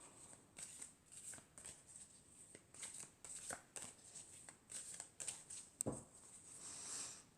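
Tarot cards shuffled and drawn by hand for a weekend guidance reading: a run of soft riffling flutters and quick slaps, close and fairly quiet, with one sharp snap near the end and no talking.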